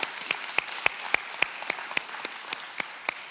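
A church congregation applauds during a Mother's Day service, steady rhythmic claps about three or four per second standing out over a soft wash of scattered clapping, moderately distant and with no voices.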